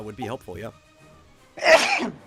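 One loud, close sneeze bursts out after a few words of speech and a quiet pause.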